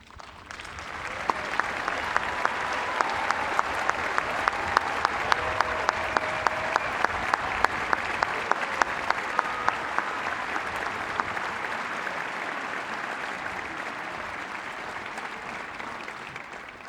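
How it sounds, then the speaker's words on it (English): A large commencement crowd at Notre Dame gives the faculty a sustained ovation, with dense applause holding steady for the whole stretch, loud and continuous, and faint crowd murmur beneath the clapping. "I ask the class of 2023, and all of us as well, to give them one final ovation"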